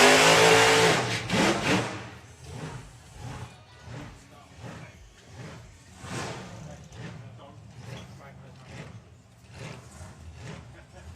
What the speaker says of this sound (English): I love the way that engine sounds